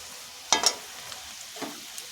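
Onions fried with a stone-ground spice paste are stirred in a pan, giving a couple of sharp scraping bursts followed by softer stirring and a low, quiet sizzle.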